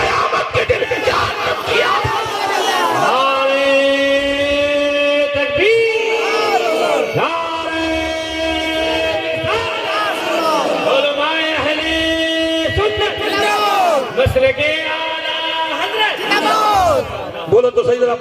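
A large gathered crowd answers a Naara-e-Takbeer call at a religious speech in Janeta Sharif, UP, with loud, sustained unison chanting in repeated swelling waves that fill the whole stretch.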